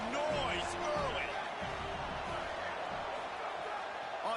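Crowd roar at a college football stadium game, a loud continuous wall of cheering and noise with a commentator's voice layered over it.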